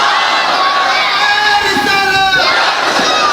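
A large crowd at a religious gathering chants a slogan for Imam Hussain, a loud, dense wall of many voices shouting together, swelling and breaking into cheering toward the end.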